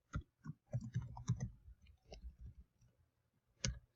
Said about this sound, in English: You click the domain.